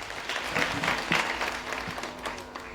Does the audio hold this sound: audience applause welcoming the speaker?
yes